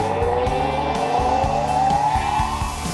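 A Bauer 6-inch benchtop grinder spins a wire wheel with a steady high whine, while repeated low thumps and bursts mark a workpiece being pressed against it, the motor holding speed throughout.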